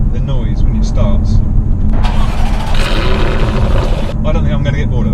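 Jaguar F-Type R engine starting up with a loud burst and rising roar, then settling into a deep idle, all recorded close with heavy low rumble throughout.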